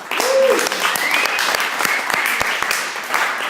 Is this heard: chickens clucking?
no